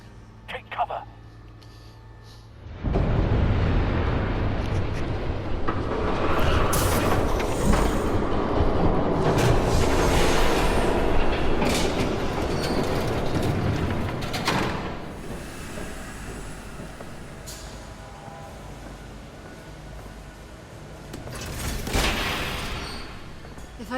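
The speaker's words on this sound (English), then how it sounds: "There's a train coming." A train thunders past in the Batman Telltale video game, its loud, steady rumble starting suddenly and holding close before easing slightly near the end, with voices faintly underneath.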